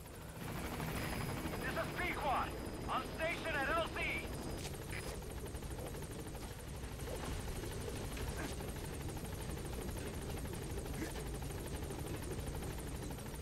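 Helicopter rotor drone in Metal Gear Solid V: The Phantom Pain as the chopper arrives at the landing zone, a steady loud whir filling the whole clip with brief higher chirps early on and game sounds mixed in.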